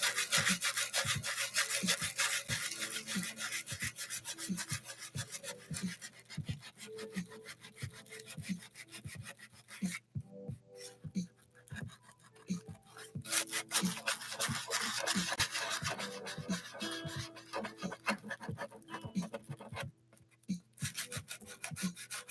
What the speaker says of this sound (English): I've sanded almost the entirety of it right now.